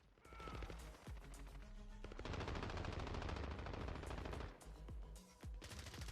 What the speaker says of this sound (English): This guy's shooting through the walls?